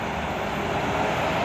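A steady, broad rumble of a train, the old silver train now serving as the ice train, arriving at Barra do Piraí, Rio de Janeiro, fills the moment continuously, near and even in loudness, with no talk.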